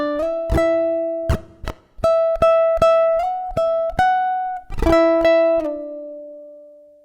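Measures 25 and 26 of a song on ukulele: a clear sequence of plucked and strummed notes with crisp attacks and ringing sustain, close and solo, the final chord left to fade out.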